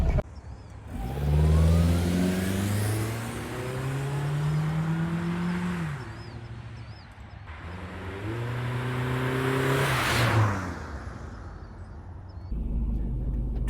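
A Suzuki Aerio AWD hatchback engine running rough on stale gasoline is revved up twice in long, rising surges, then sags back to an uneven idle. The engine is loud and close, with no talking.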